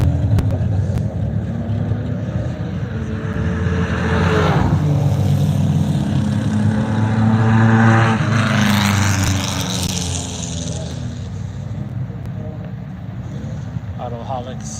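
Several cars rumble past at antique drag races, engine noise swelling and fading as they pass at moderate distance, with a C10 pickup and a Chevy Apache among the vehicles, people talking over the steady motor drone.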